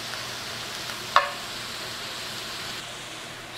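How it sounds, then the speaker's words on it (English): Bacon and onions sizzling in bacon grease in a pan for chili: a steady, close frying hiss, with one brief clack of a utensil as they are stirred. "Stir them around a little bit. Get them coated with some of that good bacon grease."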